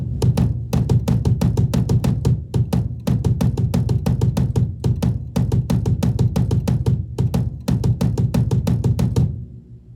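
A drum kit plays a 7/4 groove with extra kick drum hits filling the end of each bar, steady sharp hits in a repeating uneven pattern, loud and close throughout before stopping near the end.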